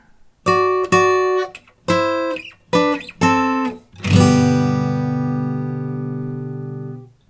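An acoustic guitar plays an intro section: several crisp strummed and picked chord hits, then a final chord left ringing and slowly decaying, close and clear with no talking.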